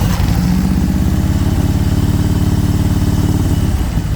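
A 2001 Harley-Davidson Road King fitted with a Mikuni carburetor, its choke held, cranks briefly and then settles into a loud, steady, close-up idle with an even throbbing pulse.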